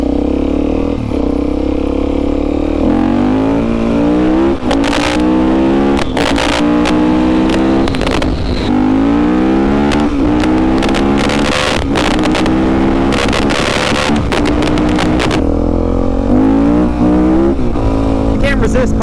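A Suzuki DRZ400SM motorcycle, fresh from a top end rebuild, revs hard through repeated rising and falling engine pulls while riding, loud and close with wind noise, some voice talk mixed in.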